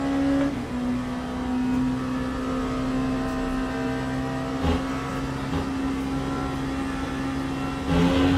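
LMP2 prototype race car engines in the Le Mans Ultimate racing game, a steady droning whine held at constant pitch for several seconds, with brief swells as other cars pass nearby.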